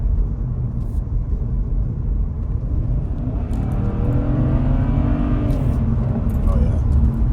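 A BMW with an N54/N55 engine accelerates on a road, its low engine drone rising in pitch as it pulls harder, heard from inside the car under wind and road rumble.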